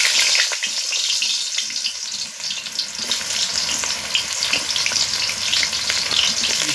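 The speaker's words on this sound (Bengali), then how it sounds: "দুবারে ভাজি পটলটা" Pointed gourd (potol) deep-frying in oil, a dense, bright crackling sizzle, close and steady for several seconds with no voices.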